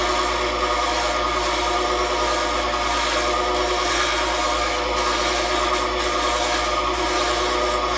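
A bowl gouge scoops wood on a spinning woodturning lathe, a loud, continuous rough scraping and rasping that stays steady throughout, alone without talk.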